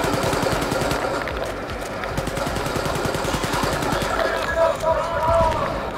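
Rapid automatic gunfire from Wolfenstein: Youngblood rattles continuously in the foreground for several seconds, with bursts of shots, game effects and a constant dense action soundscape.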